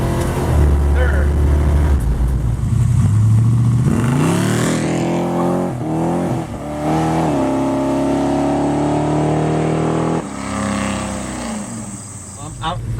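A Plymouth Duster with a 318 engine and 904 automatic transmission accelerates hard, its loud engine note climbing in pitch, dropping at each gear change, then rising again, with someone speaking over it.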